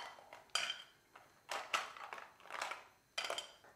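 Mussels are tipped into a pan already holding clams for a classic Italian seafood risotto. Several crisp, clattering bursts of shells hit the metal, close and fairly quiet, with short pauses between them.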